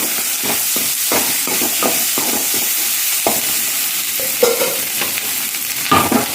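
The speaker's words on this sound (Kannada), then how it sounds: "ಸ್ಪೂನ್ ಆಗುವಷ್ಟು ಶುಂಠಿ ಬೆಳ್ಳುಳ್ಳಿ ಪೇಸ್ಟ್ ಹಾಕ್ತೀನಿ ಒಂದು ಕಾಯಿ ಮೆಣಸು ಹಾಕ್ತಿದ್ದೇನೆ" Ginger garlic paste and a green chili sizzle and fry in a pan with oil, a steady loud hiss broken by repeated scraping stirs of a spoon, no voices over it.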